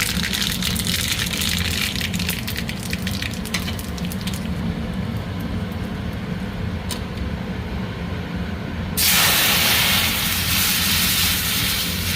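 Asafoetida, mustard seeds and cumin seeds tempering in hot oil give a steady, close crackle and hiss that carries on throughout and swells into a louder rushing sizzle near the end.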